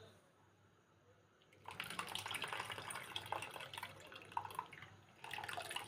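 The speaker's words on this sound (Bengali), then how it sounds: "দুবার তিনবার জল পাল্টে পাল্টে ধুয়ে নেবে।" Vegetables are rinsed and swished in a bowl of water, a steady close splashing and trickling that starts after a quiet moment, pauses briefly and then resumes.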